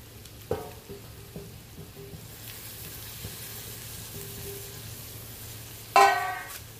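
Egg paneer fry sizzles softly and steadily on a tawa with coriander added, broken by a couple of clinking stirs of a spatula, the sharpest near the end.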